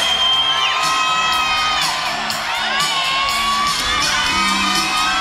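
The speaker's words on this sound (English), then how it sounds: "the crowd really spurring on the 32-year-old Frenchman." A large crowd at the men's lead finals of a European climbing championship in Chamonix cheers and whoops continuously and loudly, with high shouts rising above the roar.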